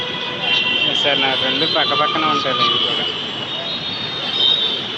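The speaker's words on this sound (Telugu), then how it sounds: "ఇది మెట్రో" A Hyderabad metro train passes in the busy SR Nagar area with a rumbling, squealing rail sound under a person talking close by.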